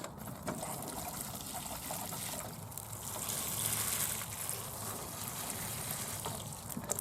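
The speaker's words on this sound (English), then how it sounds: "Where's that watering can? Get them in the centre. And let's drown them." A watering can pours water onto plants at an allotment, a steady close splashing and trickling stream that swells slightly midway and continues without a break and without speech.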